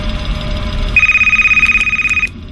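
Phone ringing in the FNAF fan game Jollibee's, a single loud electronic trilling ring lasting over a second, starting abruptly and cutting off, over low background rumble.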